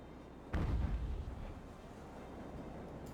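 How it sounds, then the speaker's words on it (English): Sailing-ship cannons firing canister shot in the naval battle game Ultimate Admiral: Age of Sail: one heavy, muffled boom that rolls off into a fading rumble, fairly faint. "we're already shooting canister, so hopefully we should get a good effect on that"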